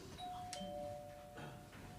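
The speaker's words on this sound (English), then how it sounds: "Doorbell." A doorbell sounds a clear two-tone chime, moderately quiet against a low room background.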